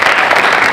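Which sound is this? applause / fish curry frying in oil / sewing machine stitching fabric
applause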